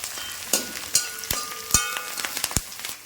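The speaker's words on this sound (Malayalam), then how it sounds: "പച്ചമുളകും വെളുത്തുള്ളിയും ഇഞ്ചിയും കൂടെ സെറ്റായിട്ട് കിടന്നൊന്ന് മൂക്കട്ടെ" Green chili, garlic and ginger frying in sesame oil with curry leaves crackle and sizzle close up, sharp irregular pops over a steady hiss.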